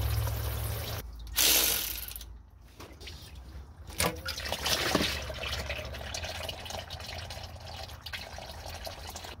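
A hand ratchet works on the fan of a 1971 Dodge D100 pickup truck, giving brief bursts of clicking pawl sounds between pauses, with scattered metallic clatter and light handling noise nearby.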